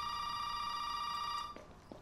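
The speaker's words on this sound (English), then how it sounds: "why is the phone ringing now as soon as I open the door? Making all this noise." A telephone in Resident Evil rings with a steady electronic tone for about one and a half seconds, then cuts off, leaving faint clicks and room tone.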